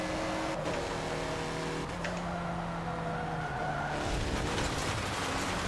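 A race car in Forza Motorsport drones at steady high revs, the engine note stepping down as it drops through the gears, with a hint of tire noise and no voices.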